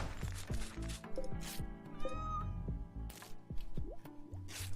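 Cat meowing in the colony-building game RimWorld, a couple of short mid-pitched cries sitting over busy, dense game sounds and low background clatter, fairly close but not dominant.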